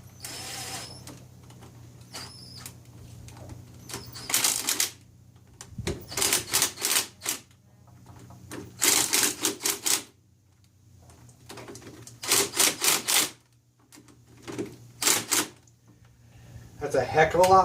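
Lathe chuck jaws being reversed with a hex adapter give off repeated bursts of fast mechanical ratcheting and whirring, separated by short pauses, close and fairly quiet, with talking between bursts.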